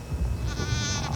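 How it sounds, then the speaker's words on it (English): A lost bighorn sheep lamb gives a single drawn-out, wavering bleat, close and fairly loud over a low background rumble. "This lost bighorn sheep wails pitifully and wanders frightened"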